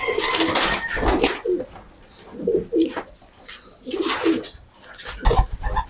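Several soft pigeon coos repeat at an unhurried pace, fairly close, with brief rustling noise between the calls.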